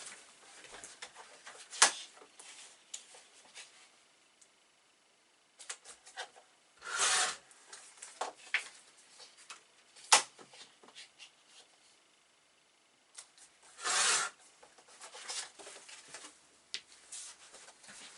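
Paper for an 8 x 10 mini album being trimmed at a craft table, quiet close rasps and slides of a cutter in short bursts separated by pauses, soft and sparse with no voices.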